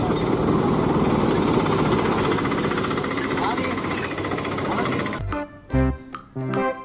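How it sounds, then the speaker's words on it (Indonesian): A helicopter's rotor thrums steadily with a rough, pulsing drone outdoors, then cuts off abruptly into a few short bursts of other noise. "Wadidaw, ada helikopter."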